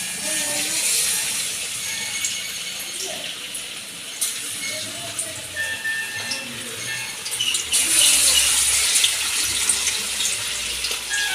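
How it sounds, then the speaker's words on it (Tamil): Marinated quail, coated in spicy masala, frying in hot oil gives a steady close hiss and crackle with scattered pops and sizzles throughout, swelling louder toward the end. "காடை நல்லா பொரிஞ்சிட்டு நம்ம எடுத்துருவோம்."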